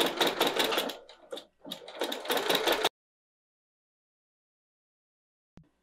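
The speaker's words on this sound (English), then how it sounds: "Now I'm going to go ahead and top stitch." A sewing machine top stitches a scrap fabric clutch, running in a loud, steady burst with a brief pause, then stopping for silence, with a faint click near the end.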